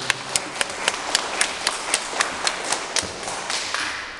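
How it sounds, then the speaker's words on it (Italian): An audience in an auditorium gives encouraging applause at a theatre performance, with a steady, rhythmic run of claps that stays moderately loud and even throughout. "Un applauso di incoraggiamento."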